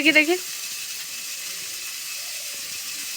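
Dheki shak fern greens frying in a wok give a steady, close hiss and sizzle that runs on alone after a brief voice at the start.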